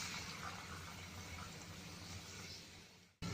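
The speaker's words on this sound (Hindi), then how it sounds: "ऑयल गर्म हो गया तो अब मैं इसमें एक एक करके स्प्रिंग रोल्स डालती हूँ" Spring rolls stuffed with noodles drop into hot oil and fry with a steady, even sizzle and bubbling that holds through before a short jolt at the very end.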